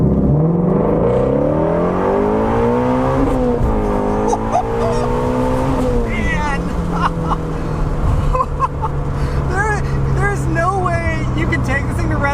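A 2020 Shelby GT350 with its V8 accelerating hard, the engine note climbing steadily through rising revs with brief shifts, loud and close from inside the car, with talk over it.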